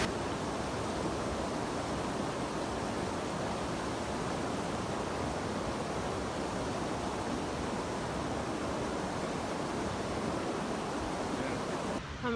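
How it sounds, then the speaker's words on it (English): Rushing creek water in the Sierra Nevada pours in a steady, dense broadband roar that holds unchanged throughout, close and continuous with no voices. "I'm approaching Wright Creek, and this one sounds a lot louder, but I haven't seen it yet."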